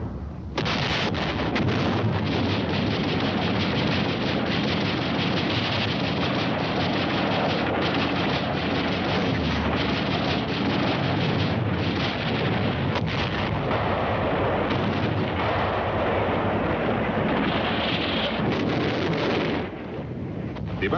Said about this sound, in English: They begin heavy fire against the beachhead.